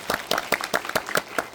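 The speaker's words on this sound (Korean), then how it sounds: "오늘 수고해주신 먼저 주성철 편집장님께 박수 한번 부탁드리겠습니다." Audience applause at a film talk event in a Dolby Cinema theatre, a quick burst of many hands clapping in rapid, even beats, close and fairly loud.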